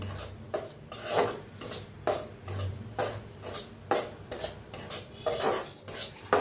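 A spoon scrapes and rubs semolina roasting in ghee in a pan, in a steady run of rhythmic strokes under a faint low background hum, with no voices.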